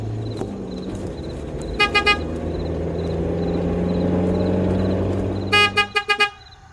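A car horn gives a few quick honks, then after a pause a longer series of rapid beeps, over a low idling engine rumble.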